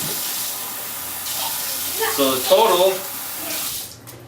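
Tap water runs steadily into a container during homemade bread making, a broad constant rush that briefly rises and splashes near the end before cutting off, with a brief word spoken over it.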